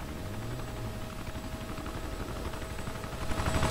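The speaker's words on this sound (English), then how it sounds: "I hear a helicopter." A steady, dense helicopter rotor roar in the video game Arma 2 fills the scene, constant and fairly loud, swelling slightly toward the end with a faint high whine.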